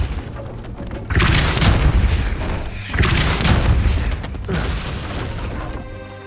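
In Hogwarts Legacy, a Depulso spell is cast in a series of three heavy, booming force blasts, each with a loud onset and a fading rumble, with no talking.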